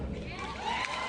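Audience cheering plays back from a recorded speech by a politician, a continuous, crowded roar of applause and whoops heard loud and unbroken.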